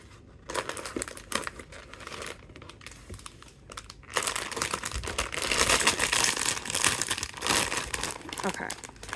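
Cardboard blind box packaging being torn and crumpled open, a Baby Three Lily Rabbit Town V4 plush pendant box, with sharp rustling and ripping that grows louder and denser in the second half, a voice speaking faintly underneath.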